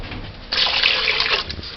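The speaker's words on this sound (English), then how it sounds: "we're going to add water." Water poured into a pot for Jamaican red peas (kidney bean) soup, a sudden close splashing stream that starts abruptly and runs steadily for about a second before tapering off.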